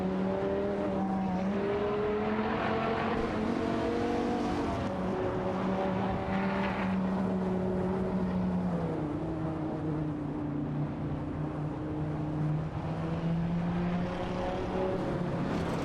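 Race car engines in an AI racing video game, including a Dodge Viper GTR, droning loudly and continuously with rising and falling pitch as the cars accelerate and shift, several engines overlapping with no voices.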